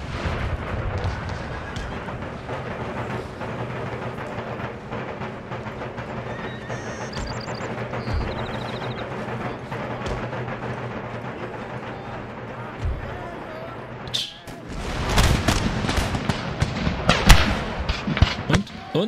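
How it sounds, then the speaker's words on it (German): Cannon fire on a Total War: Empire battlefield, with massed artillery in the centre of the line. A dense, constant rumble of booms runs throughout and grows into louder, heavier blasts near the end, with no talk. "Die ganze Mitte besteht nur aus Kanonen."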